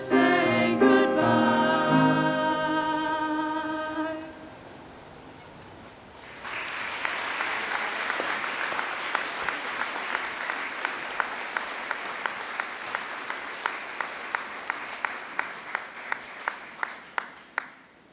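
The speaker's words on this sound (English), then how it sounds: "Let's give him another round of applause." Audience applause rises at a 2017 Allendale Columbia School graduation ceremony after a few seconds of tonal music and a short pause. The clapping is steady and moderately distant, with sharp individual claps standing out as it thins toward the end.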